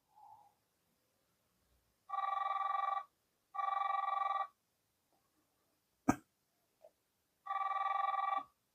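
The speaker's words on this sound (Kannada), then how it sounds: "ರಿಂಗ್ ಆಗ್ತಾ ಇದೆ." An outgoing phone call rings in a dating app, sounding three evenly spaced electronic ring bursts in a quiet room, broken by a brief sharp click.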